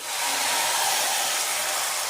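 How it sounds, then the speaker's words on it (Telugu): A loud, steady hiss of hot oil sizzling as tempering is poured into okra tamarind stew, close and continuous for a couple of seconds, with no voices. "ఇప్పుడు మనం తాలింపుని మన పులుసులో వేసేసుకుంటే"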